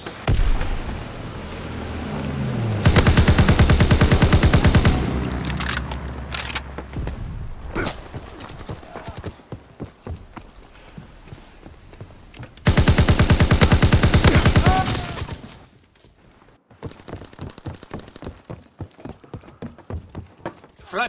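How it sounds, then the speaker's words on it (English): Flak guns in Call of Duty WWII pound away in two loud sustained bursts of rapid, heavy fire, with scattered gunshots and game sounds between and after them. "Flak guns firing. Clearing the skies."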